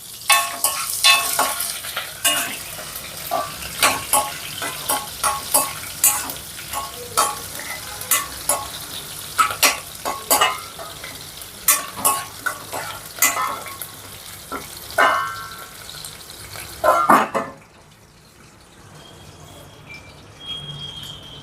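Hot oil sizzles loudly in a pan as green chillies fry for a South Indian ridge gourd curry, with rhythmic stirring clinks throughout before the sound drops abruptly to a faint hiss when the lid goes on.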